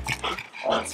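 A mini pit bull lets out short, close whimpering and whining sounds in a few uneven bursts across under a second, with no talking.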